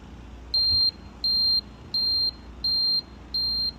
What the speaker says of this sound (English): That's 5 beeps. That's not what you want.